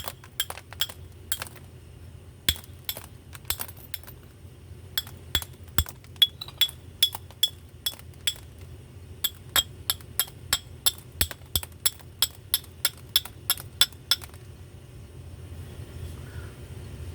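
Knapping the bottom of a glass bottle: a long run of sharp, ringing clinks, some spaced out and others in quick regular bursts, close and crisp over a low steady background hum.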